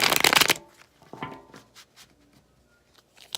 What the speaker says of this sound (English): Okay, one more shuffle